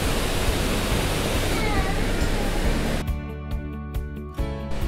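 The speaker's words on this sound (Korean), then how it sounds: "그야말로 폭포를 만들어놨습니다." An artificial waterfall at the Dodeoksan suspension bridge in Gwangmyeong pours as a dense, steady rush of falling water, close and loud, then thins out as music comes in.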